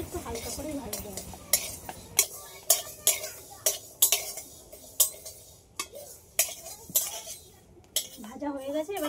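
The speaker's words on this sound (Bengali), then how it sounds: "সবগুলো একসাথে একটু ভেজে নেব। বেশি ভাজলে হবে না, একটু হালকা করে ভাজতে হবে।" Ingredients including poppy seeds being lightly fried together in a pan, with repeated sharp clinks and scrapes of a utensil stirring against the metal at a steady rhythm over a soft background sizzle.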